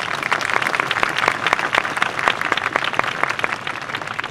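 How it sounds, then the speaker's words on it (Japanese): Audience applause at an award ceremony for judging results at the Kyoto Sakura Yosakoi dance festival, a dense, steady clapping crowd sustained loudly throughout with no talk. "皆様今一度大きな拍手をお願いいたします"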